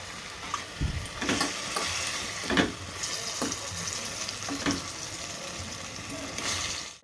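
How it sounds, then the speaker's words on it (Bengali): Two fish reheat in a frying pan with a steady sizzling hiss, broken by several sharp clatters and stirring scrapes of a utensil against the pan. "তো চলো আমি এখন মাছ দুটো গরম করি"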